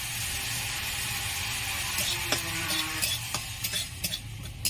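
Fennel and radhuni seeds fry in a wok for shukto, a soft steady sizzle under a stirring utensil that scrapes and clicks against the metal more often toward the end, with no talking.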